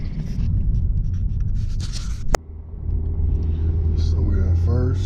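2014 Ford Focus with a five-speed manual transmission shifting into first gear in traffic, a steady low engine rumble broken by a sharp click of the shifter, then the idle settling back as a voice talks over it.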